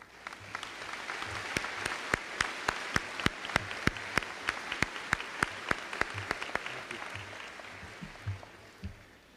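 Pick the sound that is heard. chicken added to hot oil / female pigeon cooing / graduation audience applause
graduation audience applause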